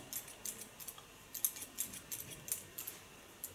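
Scissors snip through short hair in quick repeated cuts, crisp close metallic clicks in an irregular rhythm against a quiet background.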